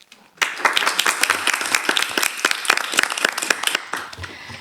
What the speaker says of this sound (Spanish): Recibimos con un fuerte aplauso a Leticia Amarilla.